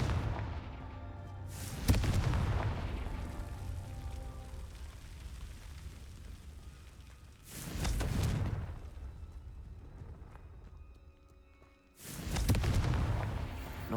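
Confringo spell explosions in Hogwarts Legacy, three heavy booming blasts several seconds apart, each decaying into a long rumbling tail, with no talk.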